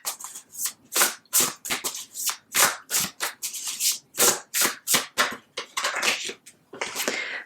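Self-care oracle cards being shuffled by hand in quick, irregular bursts of crisp riffling and slapping, close and fairly loud, with no voices.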